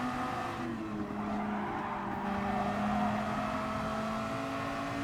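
In a racing video game, a Red Bull X2014 Junior race car runs at Willow Springs, Big Willow, drafting behind other cars. Its engine drones steadily with tonal whine and tire noise, and there is no talk.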